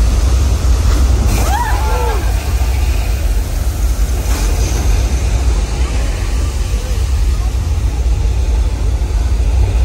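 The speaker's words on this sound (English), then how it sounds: "You can see that whole rain and flash flood effect" Thousands of gallons of recycled water pour down a hill on the Universal Studios Hollywood studio tour in a simulated rain and flash flood, a constant loud rushing wash with brief voices rising over it.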